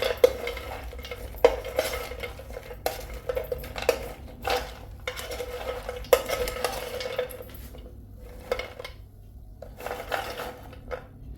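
Almonds are stirred in an air fryer basket, a run of irregular scraping and clattering strokes with short gaps, close and fairly loud, with no talking.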